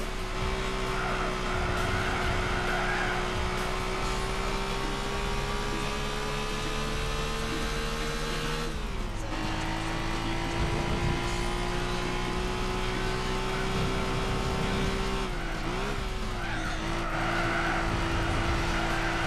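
Suzuki K-car racing at Tsukuba in Gran Turismo 4, its small engine droning steadily at high revs with pitch dips at gear shifts around nine and fifteen seconds, tire squeal over the top, no talking.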